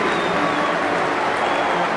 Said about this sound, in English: Everybody clapping, everybody's happy.